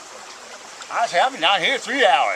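A low country creek flowing as a steady, soft broadband wash that runs throughout, with someone talking over it for most of the stretch.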